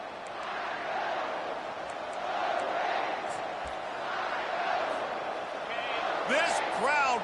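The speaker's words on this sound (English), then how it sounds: "This crowd busting the decibel meter and trying to will a 4th down stop" A packed stadium crowd in a college football video game roars continuously at a 4th-down stand, loud and sustained with swelling peaks, while a commentator talks over it.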